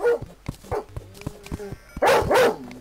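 A dog barks several times in quick bursts, fairly close, with whimpering yips between barks during a Terraria game session.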